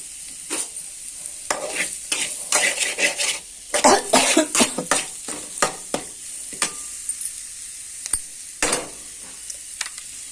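An egg fries in a hot pan at a home kitchen stove, a continuous sizzle broken by loud scraping and stirring strokes of a utensil against the pan, close and uneven in rhythm.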